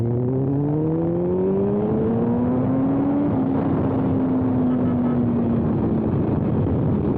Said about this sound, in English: He has got a beautiful exhaust system